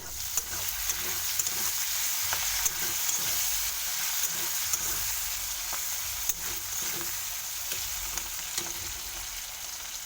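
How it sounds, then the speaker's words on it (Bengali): Potatoes frying in a pan are stirred, a steady close sizzle with scattered scraping clicks of the spoon throughout, no voices. "ঢাকনাটা খুলে আমি তার আলুটাকে একবার নেড়ে নেব।"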